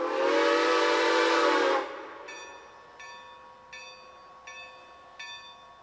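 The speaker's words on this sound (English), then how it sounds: "Slowing to a halt in Chanhassen, the train will begin boarding procedures for the Harvest Barbecue Express Special" A historic passenger train hauled by an E-unit locomotive comes to a halt at Chanhassen: a loud sustained horn blast, then a bell ringing in five evenly spaced strokes at moderate distance.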